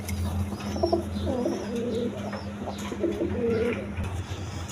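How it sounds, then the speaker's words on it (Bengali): A pair of Giribaz pigeons coos in low, repeated murmurs at a bird seller's stall, with other pigeons calling faintly around them and a steady background hum. "এখানে এক পেয়ার কবুতর আছে, দেখেন গিরিবাস কবুতর"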